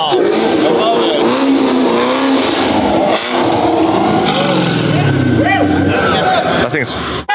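A loud car engine roars and revs close by at a Gumball 3000 rally stop, with tires briefly squealing, while people talk and react over the noise.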